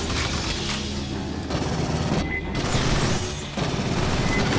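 Sentry turrets in the Aliens Fireteam Elite video game fire at attacking aliens in a dense, unbroken stream of rapid shots that stays loud and close throughout, with brief dips in the barrage.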